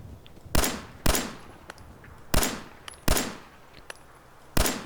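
Pistol shots in Fallout 4, five sharp, separate reports spaced unevenly about a second apart, each with a short decaying tail over quiet game ambience.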